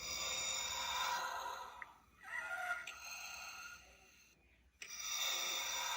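Hasbro Darth Vader costume helmet voice changer running its weak breathing effect: hissy, airy in-and-out breaths that swell and fade, with a short silent gap before the breathing resumes.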